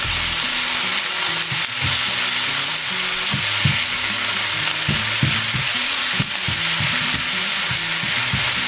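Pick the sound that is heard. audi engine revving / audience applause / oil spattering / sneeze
oil spattering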